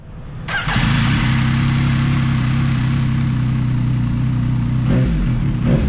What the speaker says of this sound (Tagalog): Sound check ng MT-09 na naka-Akrapovic exhaust, tapos naka-remap.